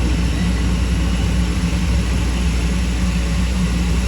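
Loud, continuous roar of a Susi Air propeller plane engine close by, a dense steady drone with a low throbbing hum, running without pause and with no talking over it.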